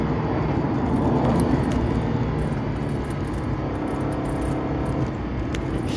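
A Honda NSX sports car engine drones steadily from inside the moving car, a continuous, moderately loud hum with road noise and no clear rev peaks.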